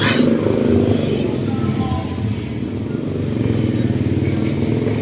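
Motorcycle engine idling and running steadily up close on a street in Tondo, Manila, a constant low rumble throughout with faint background noise.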